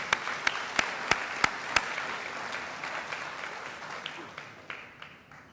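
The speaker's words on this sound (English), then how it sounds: "let's give him a big round of applause" A club kickoff meeting audience applauds, with a few loud, sharp claps up front over a dense wash of clapping that slowly thins and fades.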